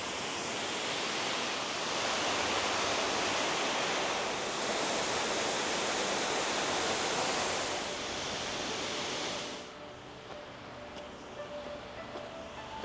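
Waterfall seen on a hike to Breiskrednosi, heard as a broad, steady rushing roar that holds constant for about ten seconds, then drops to a softer, more distant wash.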